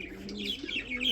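Large pigeons at a fancy pigeon collection give a brief, soft coo mixed with light chirps, close by and fairly faint.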